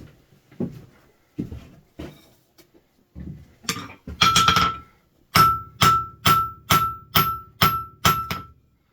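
Round steel stock hammered into a hex on an anvil: a series of sharp ringing hammer blows in a steady rhythm, preceded by softer, duller taps and handling knocks, close and loud.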